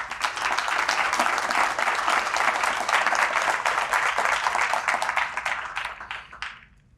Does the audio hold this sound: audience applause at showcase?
yes